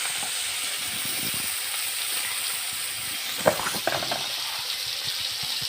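Onions go into a pan of hot oil after fried brinjal, giving a soft continuous hiss and crackle with a brief louder burst and scrape partway through.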